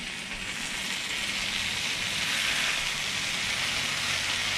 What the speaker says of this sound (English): So I got some nice pastrami here. Oop, hear that sizzle?